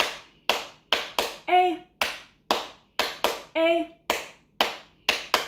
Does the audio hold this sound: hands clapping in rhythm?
yes